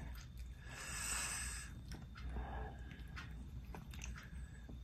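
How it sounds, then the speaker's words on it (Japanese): An elderly cat with kidney failure eating grilled bonito topped with tuna Churu, soft close chewing and wet smacking bites heard faintly over a steady background hum. "焼きガツオにツナ缶チュールをかけて、まあ、焼きガツオも食べてますね。"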